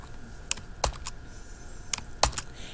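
Sparse, crisp key clicks from an international-layout computer keyboard sit in a quiet room, a handful of separate taps and short pairs, close and fairly light.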